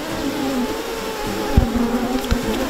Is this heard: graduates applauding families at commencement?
no